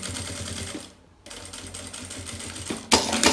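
A sewing machine stitches a fabric notebook cover pocket in quick rattling bursts. It stops briefly, runs again, and ends with a sharper, louder spurt of stitching, close by with no voices.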